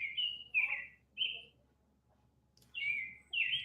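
Pet birds chirp indoors in a home, several clear high chirps and short trills in separate bursts with quiet gaps between them, fairly close and with no talk over them.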